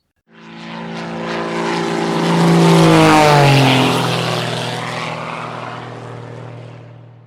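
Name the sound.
propeller plane flying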